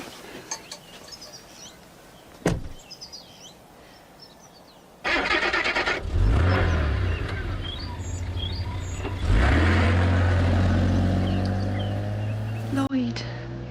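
A car engine cranks and starts in a radio drama, coming in with a sudden door thump and a rising rumble that settles into a steady idle, then revs again, with birds chirping faintly in the background.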